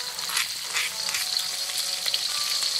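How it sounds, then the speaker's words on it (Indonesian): Ground chili sambal sautéing in oil, a bright crackling sizzle close by with small pops and spatters over a few seconds. "Sekarang kita akan menumis sambal yang tadi kita ulek ya,"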